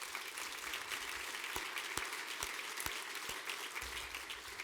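A crowd at a city's State of the City address applauds its Director of Parks, Recreation, and Cultural Services. Continuous clapping fills the room, with a few sharper, louder claps standing out from the steady wash.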